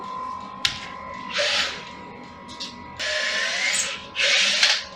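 Several bursts of a power drill whirring into a garage wall with a too-small bit, short then longer runs with pauses between, close by and loud, with a steady faint tone underneath.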